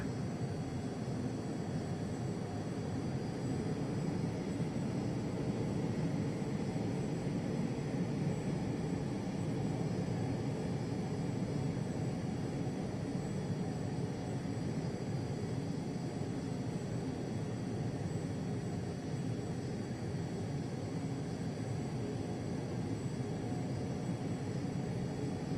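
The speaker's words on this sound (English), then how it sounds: "let's go ahead and taxi out to the runway" Steady, unchanging airliner engine drone from a flight simulator as the aircraft taxis toward the runway, a constant broadband hum at moderate level throughout with no voices.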